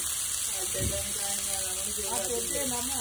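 Fish frying in a pan, a steady close sizzle and hiss running under a person speaking.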